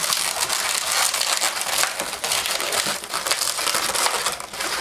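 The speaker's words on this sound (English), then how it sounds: "Twist that into those 2 pinch twists on our barrel." Close-up rubbery squeaks and crinkling as a latex balloon is twisted into two pinch twists for a balloon-animal rifle, a dense, continuous rubbing with small bursts and no voices.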